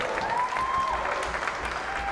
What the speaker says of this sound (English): you can hear when the crowd gets excited like that